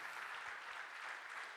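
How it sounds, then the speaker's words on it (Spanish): A church congregation at a charismatic assembly applauds in a dense, steady burst of clapping, fairly faint and distant, with no clear voices over it. "Denle ese aplauso grande a Jesucristo nuestro Señor"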